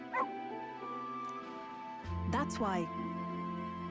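A puppy yips and whimpers in Metaphor: ReFantazio, with a few short high-pitched cries over steady background music and game tones.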